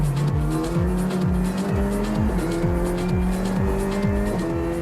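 A Renault Clio R3T rally car brakes hard, engine revs dropping in quick downshift blips while tires squeal continuously, loud and close with no talk.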